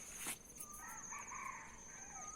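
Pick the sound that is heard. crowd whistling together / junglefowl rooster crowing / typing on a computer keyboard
junglefowl rooster crowing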